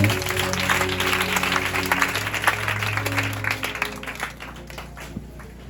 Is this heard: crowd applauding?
yes